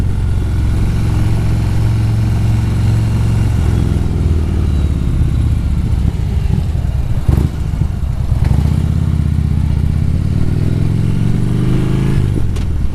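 A motorcycle engine drones steadily and loudly while being ridden, with the pitch easing and building slightly over the ride and a few brief clunks in between.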